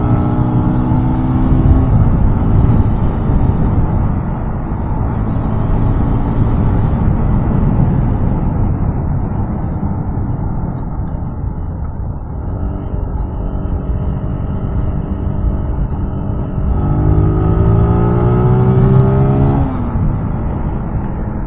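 A motorcycle engine hums steadily while riding, mixed with constant wind rush, its pitch rising and falling through gear changes over a long, loud stretch with no talk.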